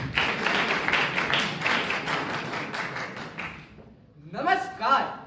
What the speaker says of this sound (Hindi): आइए जोरदार तालियों से प्रतिभागी का स्वागत करें।